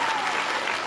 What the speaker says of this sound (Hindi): एक बार आप अपने लिए जोरदार ताली हो जाती है